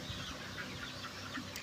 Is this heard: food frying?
no